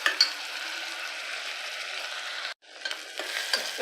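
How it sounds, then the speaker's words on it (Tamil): Chopped onion and tomato frying in hot oil for egg biryani, a steady broadband sizzle with faint stirring clicks, briefly cut off near the end before resuming a little quieter. "வெங்காயம், தக்காளி போட்டுடலாம். கொஞ்சம் நேரம் நல்லா வதங்கட்டும்."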